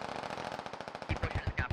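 Rapid automatic gunfire in the military shooter Squad, a fast even burst that grows heavier and punchier toward the end as closer shots join in.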